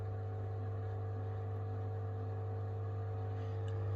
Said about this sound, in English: The pump is now spinning.